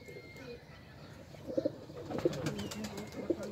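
A male Kasuri pigeon coos softly, its low repeated coos growing louder toward the end over faint background noise and a brief flutter.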